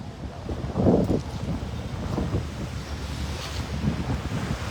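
Sea waves at Manila Bay wash steadily against the shore under gusting wind that buffets the microphone, a continuous outdoor roar with one fuller surge near the start.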